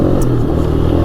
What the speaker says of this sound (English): It's got a pretty good sound to it. It is a single cylinder 500 liquid cooled 4-stroke engine